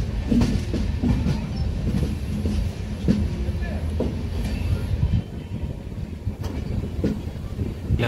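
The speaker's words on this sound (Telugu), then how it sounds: "ఏమన్నా సూపర్ టర్నింగ్ అండి మన ట్రైన్ది," A superfast express passenger train from Secunderabad to Sirpur Kagaznagar rounds a curve on the tracks. It gives a steady rolling rumble with rhythmic wheel clatter and occasional sharp clicks, heard from inside the carriage with faint background voices.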